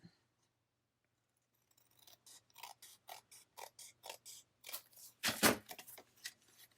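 Scissors trimming paper close up, a quick series of about a dozen crisp, rhythmic snips after a quiet start, ending with a louder rustle of the paper.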